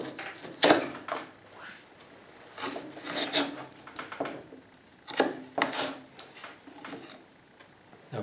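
Utility knife scoring through drywall sheetrock laid on a piece of wood, a series of rough scraping strokes in uneven bursts, close and moderately loud with no talking.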